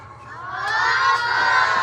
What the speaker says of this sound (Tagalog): pumalakpak ng malakas ulit